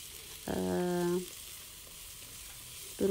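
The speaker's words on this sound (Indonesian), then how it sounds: "tumis hingga layu beberapa menit saja, sekitar 5 menit" Zucchini and other ingredients sautéing in a pan for a baked zucchini cheese dish give a soft, steady sizzle throughout, with a brief tonal, humming sound near the start.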